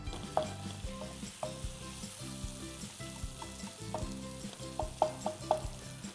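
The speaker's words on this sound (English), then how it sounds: "And now some onions into my hot oil." Onions sizzle as they hit hot oil infused with spices for a Kerala-style chicken or mutton stew, a steady close frying hiss with scattered stirring clinks and soft music underneath.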